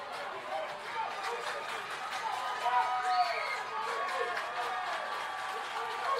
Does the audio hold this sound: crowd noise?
yes